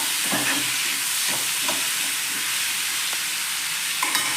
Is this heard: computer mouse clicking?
no